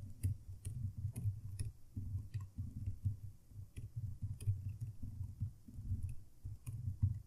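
Code is being typed on a computer keyboard in a steady stream of close, soft key clicks with irregular rhythm and no voices over it.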